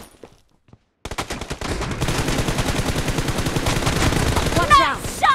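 Automatic gunfire in PUBG Mobile team deathmatch erupts after a brief quiet pause, a loud rapid stream of shots lasting several seconds with game voice callouts mixed in.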